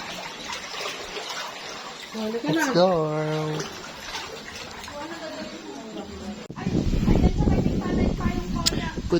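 Typhoon Carina floodwater in 2024 rises deep around a home, with voices talking over trickling and sloshing water before a louder, continuous rush of water surges close by near the end.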